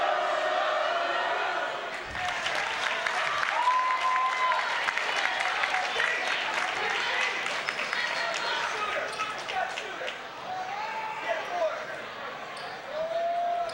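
A crowd murmurs and reacts at a high school boys basketball game between EBHS and St. Joseph, with sneaker squeaks and a bouncing ball in a gym, under steady commentary.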